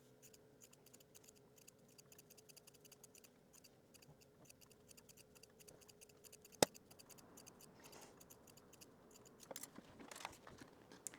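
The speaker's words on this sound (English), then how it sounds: "I'm going to trim down the seam allowance" Scissors trimming the seam allowance on sewn sweatpants joggers, a quiet close-up series of rapid, regular snips with one sharper click partway through.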